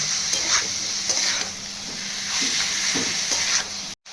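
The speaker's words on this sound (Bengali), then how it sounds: "পেঁয়াজের সঙ্গে কিমাটা ভালো করে কষা হয়ে গেছে।" Minced chicken and onions sizzle steadily in a pan over lowered heat, with a spatula scraping through in repeated stirring strokes, close and loud, ending in an abrupt cut.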